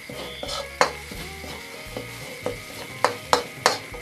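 Thai curry paste sizzles as it is stir-fried in oil in a pan, with a steady frying hiss broken by several sharp scrapes and clinks of a spatula against the pan.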